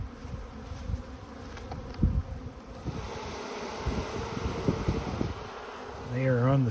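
Honey bees crowding a syrup feed screen on a sunny day, their buzzing a dense steady drone close by, with scattered knocks and handling noises and a louder buzz rising near the end.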